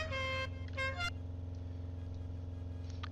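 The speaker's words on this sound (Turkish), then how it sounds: "Dur biz de korna çalalım." Two blasts of a deep truck horn in Cargo Simulator 2021, one long then one shorter, over a constant low engine drone.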